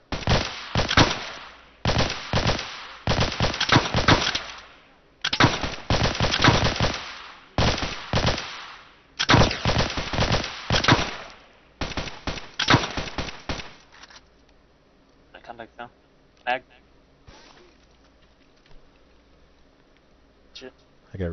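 Live-fire exercise gunfire from a military training unit, with repeated loud bursts of automatic rifle fire in rapid volleys, then sparser single shots further off and voices talking in between.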